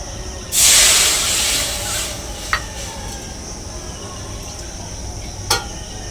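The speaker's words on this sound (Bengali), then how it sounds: "এবারে কড়াইতে দিয়ে দিচ্ছি জল।" Water poured into a hot kadai after roasting semolina for sandesh gives a sharp, loud hiss that bursts up and fades over about a second and a half, followed by quieter sizzling and a couple of brief clinks.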